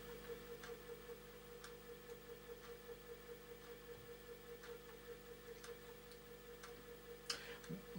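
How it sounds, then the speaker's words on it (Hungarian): Commodore 1571 disk drive running with a faint, squeaky motor, heard as a steady low hum with soft, regular ticking clicks repeating throughout, quiet and close. "Van egy ilyen kis nyikorgó hangja a motornak"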